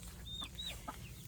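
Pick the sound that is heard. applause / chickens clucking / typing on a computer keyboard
chickens clucking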